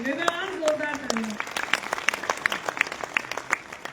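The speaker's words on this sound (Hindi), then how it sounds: "मेरा मन है एक बार जोरदार तालियां हो आपकी उपस्थिति के लिए।" An audience at a Delhi Academy stage event breaks into applause, scattered rhythmic claps building under a voice that speaks over the opening moments.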